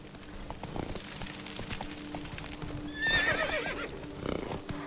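Roach, Geralt's horse in The Witcher 3, gives a clear, ringing whinny midway through, over a steady clip-clop of hooves amid faint ambient background noise.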